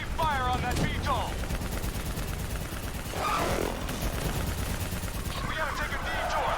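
Rapid automatic gunfire rattles continuously in a Call of Duty Black Ops III battle, dense bursts of shots mixed with explosions and rumbling, while shouting voices cut in over the combat.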